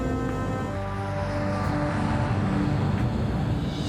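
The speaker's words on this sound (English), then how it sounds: "Swissair Flight 111 lifts off the runway and makes her way northeast towards the open Atlantic." A Swissair airliner rolls down the runway for takeoff, heard as a loud, steady, broadband engine roar with a layered drone that holds for several seconds, without speech.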